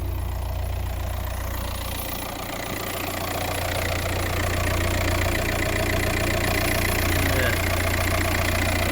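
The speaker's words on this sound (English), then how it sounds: "I show you how to work the engine" An Audi A4 B6 1.9 TDI diesel engine idles up close with a steady, loud, clattering rumble that rises slightly partway through.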